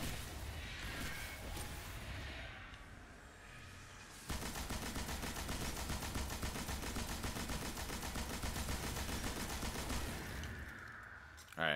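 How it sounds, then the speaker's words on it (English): Enemy gunfire crackles in the video game Destiny during a Nightfall strike, with rapid bursts and booms that become a dense, continuous barrage partway through, loud and close in the game mix. "They're already shooting."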